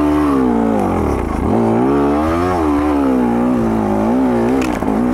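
KTM XC-W two-stroke TBI dirt bike engine revving hard as it accelerates from nearly a stop, a loud, close, continuous rising and falling buzz with pitch sweeping up through the gear, no talking.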